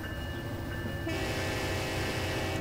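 A train horn in the game Transport Fever blows as one long sustained chord, rising sharply about a second in and staying loud over the rumble of a moving train, with no talk.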